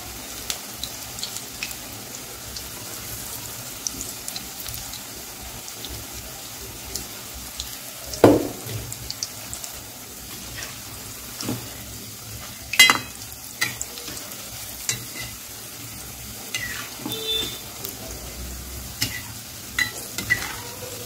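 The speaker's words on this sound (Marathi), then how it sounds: "तेल छान गरम झालं की गॅस थोडासा कमी करून घ्यायचा आणि मीडियम ठेवून भजी तळून घ्यायची" Onion and potato bhaji frying in hot oil over a medium flame, a soft continuous sizzle with occasional sharper clinks and scrapes of a utensil against the pan, close and steady with no talking.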